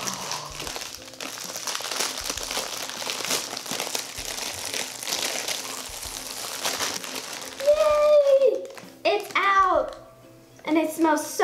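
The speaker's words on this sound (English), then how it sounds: "We're gonna get it out of the bag." A plastic bag crinkles close up as a giant gummy worm is pulled out of it, the rustling running beneath a voice.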